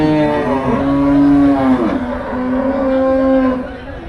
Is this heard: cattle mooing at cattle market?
yes